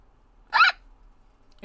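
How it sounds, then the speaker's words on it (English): A single short, sharp hiccup pops out clearly against near-silence, a brief tonal squeak-like burst with a faint sound trailing at the very end. "I have the weirdest hiccups all of the time."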